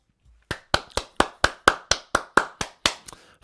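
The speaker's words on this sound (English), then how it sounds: "Everybody give a round of applause" About eleven sharp, evenly spaced hand claps, close and loud, ring out alone in a steady rhythm during a live Clubhouse-style online gathering.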